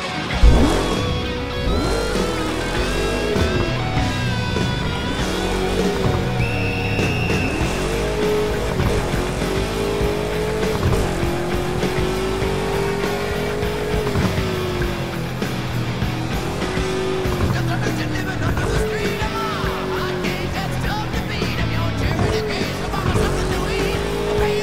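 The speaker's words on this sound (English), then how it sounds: "Hold the accelerator to fire up the engine." A car in the video game Burnout Paradise Remastered on Xbox Series X revs continuously, its engine pitch rising and falling loudly with tire squeal under a steady game soundtrack.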